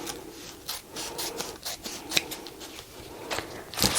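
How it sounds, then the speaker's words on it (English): Regular scissors snip through a foam sheet, giving a run of close, soft rubbing cuts and crunchy snips in quick succession. "you can just cut this with regular scissors"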